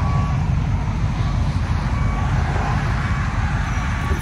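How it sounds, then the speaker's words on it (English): A bus backing out of a driveway beeps steadily as it reverses, the warning tones running continuously over a loud, constant rumble of engine and road noise. "getting ready to... back the bus out of the driveway"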